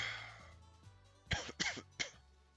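Person coughing and clearing their throat nearby, a few short harsh bursts in quick succession after a quieter stretch of low background hum, with no talking.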